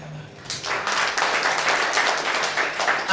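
A church congregation at a Sunday service bursts into applause after a short quiet moment, many hands clapping in a loud, dense, sustained roar that holds steady to the end.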